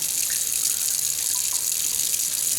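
Kitchen tap running steadily into a sink while brined chicken is washed under it, giving a constant close, bright water hiss.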